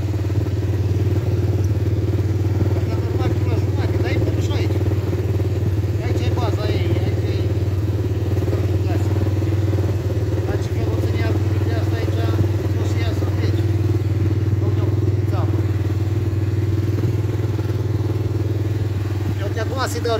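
A 125cc ATV engine with a carbon sport exhaust idles with a steady low throb and rattle close by, while people talk intermittently over it.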